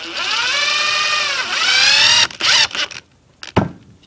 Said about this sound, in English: you need to take a bolt and simply screw that bolt straight in